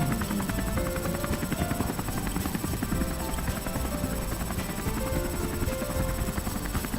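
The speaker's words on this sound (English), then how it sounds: "Maybe I forget about the helicopter sound." Helicopter rotor noise from a Doki Doki Literature Club mod, Doki Doki: Within, thumps steadily and loudly throughout amid layered game sound and music, with no gaps.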